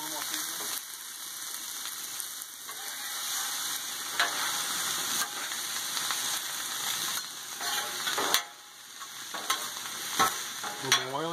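Vegetables sizzle and fry steadily on a Blackstone flat-top griddle beside steak, with scraping spatula strokes and clacks cutting through a constant hiss, close and fairly loud throughout.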